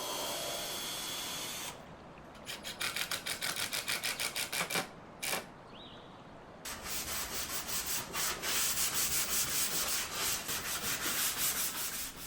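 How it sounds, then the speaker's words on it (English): Wooden pieces of an antique walnut dresser are sanded in long stretches of steady abrasive rubbing, interrupted by a pause and rhythmic back-and-forth passes, close and continuous with no talk. "Once all the pieces had finally been sanded"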